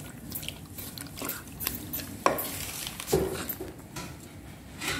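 A pot being handled while cooking, with metallic clinks and a couple of louder scraping knocks against a low kitchen background.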